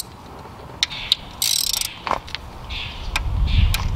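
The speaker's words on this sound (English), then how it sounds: "And then the next ones I will loosen up are the Allen head ones." A ratchet loosens Allen head valve cover bolts on a Lexus GS/IS, giving a few quick metallic clicks and short bursts of ratcheting, close and fairly loud in a quiet garage.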